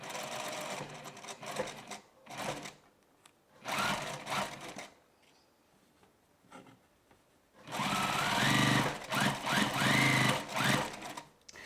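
A sewing machine stitches a box-tuck yoke skirt, running in several separate bursts of steady mechanical whirring with quiet pauses between them.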